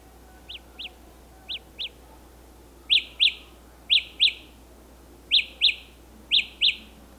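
High electronic chirps in pairs from the find-my-earbuds locator tone of Samsung Galaxy Buds Live wireless earbuds, starting softer and growing louder, repeating at a steady pace against faint background hiss.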